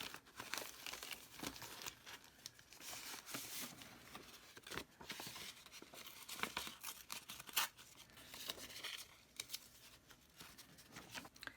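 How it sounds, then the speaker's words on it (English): Plain paper is handled at close range while planning a traveler's notebook, with soft crinkling, rustling and short tearing sounds coming in irregular bursts, faint and with no talking. "Now I'm going to take a little bit of plain paper."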